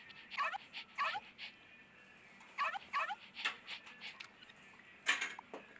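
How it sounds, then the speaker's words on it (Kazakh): A dog yips and whimpers in a series of short, high-pitched bursts, grouped in pairs and clusters with brief pauses between, moderately near in a quiet room. "Ойбай! Ит қой мынау!"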